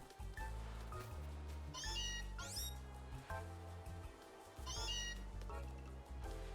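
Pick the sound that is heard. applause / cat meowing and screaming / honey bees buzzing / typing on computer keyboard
cat meowing and screaming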